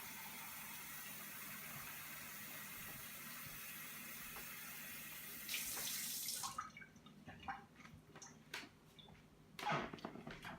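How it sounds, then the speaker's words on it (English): Tap water runs steadily into a measuring cup in a home kitchen, a loud continuous rush that cuts off partway, followed by quieter clinks and splashes. "So sorry for the noise, but I'm getting 2 cups of water."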